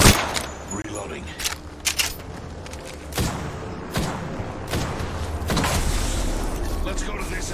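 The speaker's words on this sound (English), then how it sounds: "Reloading." Weapon reloading in Apex Legends, a string of sharp metallic clicks and clacks with a few louder bursts, mixed with other game sounds and mechanical rattles over several seconds.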